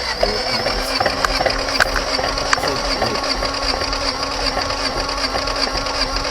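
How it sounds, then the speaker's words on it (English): A Honda D15 engine cranks over on the starter during a compression test, giving a continuous, fast, rhythmic mechanical chatter that stays loud and close throughout. "check what happens on cylinder number 4 when you crank"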